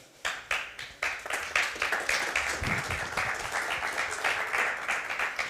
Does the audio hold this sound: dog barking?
no